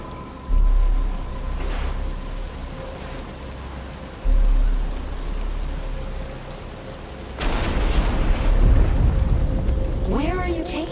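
Rain setting in during a Batman: Return to Arkham Asylum game scene, a steady wash of rainfall with low rumbling swells and distant thunder-like booms, growing denser toward the end.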